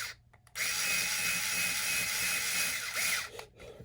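Cordless power drill fitted with a 1.5 mm bit, whirring steadily at close range for about three seconds after a brief start, then winding down with short bursts as the trigger is released.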